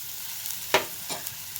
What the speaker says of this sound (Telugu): ఇది కాస్త ఇలా వేయించుకోవాలండి.